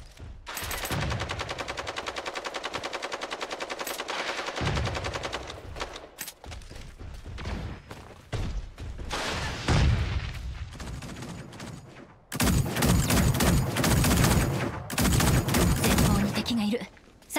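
Gunfire in the mecha battle royale game Super Mecha Champions crackles in dense, loud bursts and sustained automatic volleys, broken by short pauses and heavier booms, with a voice speaking now and then in between.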